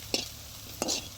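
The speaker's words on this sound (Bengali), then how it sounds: "আর ওটাকে একবারে ঝুরো ঝুরো করে ভেজে নেবেন" Food being stir-fried in a pan until crumbly, two brief scraping stirs with a soft sizzle, close and fairly quiet, no talking.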